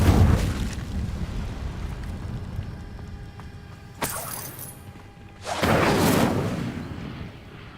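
Incendio fire spell cast in Hogwarts Legacy, sharp whooshing bursts of flame with crackling impacts, one brief burst and a longer roaring blast, over quiet ambient background.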